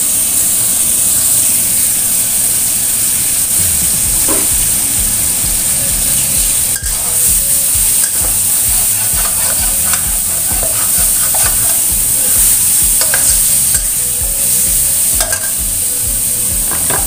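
Salted fish stir-fried in a pan makes a loud, constant hissing sizzle lasting throughout, with frequent scraping and tapping of a spatula against the pan.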